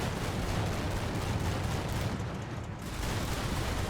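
Continuous rumbling battle noise of gunfire and distant artillery in the wargame Combat Mission Final Blitzkrieg, dense and steady with no clear pauses.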